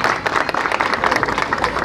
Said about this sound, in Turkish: Onlara da bir alkış yapalım arkadaşlar.